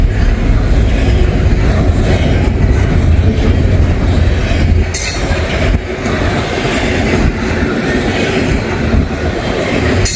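A train rolls past in snowy weather, a continuous loud rumble of railcars with rhythmic clatter and brief high wheel squeals, close by and without voices.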